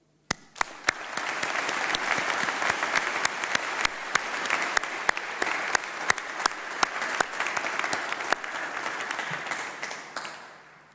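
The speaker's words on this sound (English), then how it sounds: "Graduands, let's give a big round of applause to say thank you to all of your supporters" Graduation ceremony audience giving sustained applause in a large hall, dense steady clapping from many hands lasting about ten seconds before tapering off, with a few sharper individual claps standing out.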